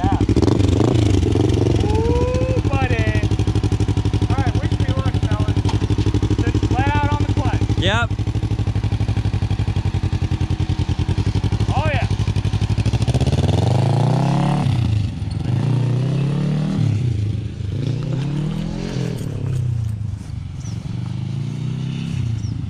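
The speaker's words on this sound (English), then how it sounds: "Off, on, start it," A motorcycle in a garage and junkyard is started and revved while people talk nearby, the engine catching partway through and then rising and falling in loud, repeated revs.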